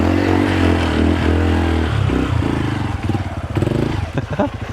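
Motorcycle engine chugging and revving on a deep-rutted mountain trail ride in Rodriguez, Rizal, with rough uneven throttle and clattering toward the end.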